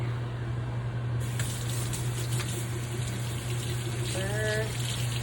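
Water gushes steadily from a tap or hose while a freshly repotted Hoya plant is watered in Arizona, a continuous faint spray with a brief rising whine near the end.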